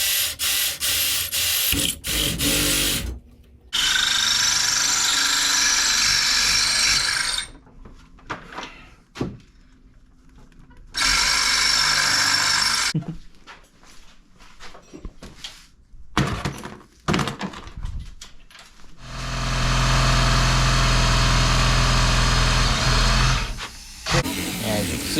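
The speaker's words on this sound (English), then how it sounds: "still fighting getting a hole drilled in this wrench" Power drill boring a hole through a steel wrench in a garage during a Camaro cam swap, loud whirring bursts that start and stop repeatedly, with grinding strain and short pauses between runs.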